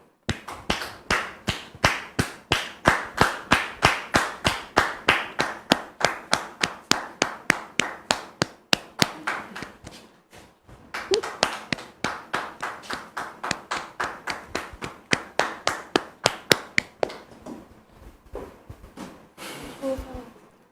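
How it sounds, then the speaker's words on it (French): Steady rhythmic clapping from an audience welcoming a guest named Dame Jeanne, many sharp claps in a regular beat, loud and close, with a brief pause midway before it resumes. "Sous vos applaudissements, s'il vous plaît."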